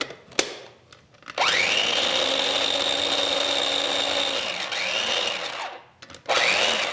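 A small food processor minces mushrooms in loud whirring bursts: one long run of several seconds, then a brief pause, then another short burst, with no talking over it.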